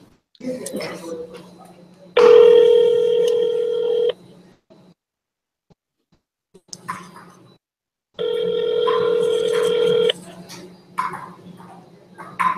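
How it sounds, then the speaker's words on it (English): Telephone call tones sound in two loud, steady bursts of about two seconds each, separated by quiet gaps and surrounded by light indoor noise. "I'm calling Corey"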